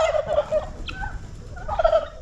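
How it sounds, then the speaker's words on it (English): Roosters and chickens call on a home property with many males and few hens, with repeated harsh crowing and gobble-like cries rising and falling at moderate distance over a steady background. "We have a lot of male chicken and few females, so that's why you're hearing a lot of noise here and there."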